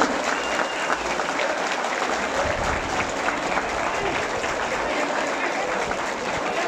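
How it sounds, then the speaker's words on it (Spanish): A crowd in a rodeo arena applauds steadily, a continuous wash of clapping spread over the stands at moderate loudness, heard a little distant throughout. "Un fuerte aplauso para Alex Yoneri Ferreira hasta el cielo, por favor."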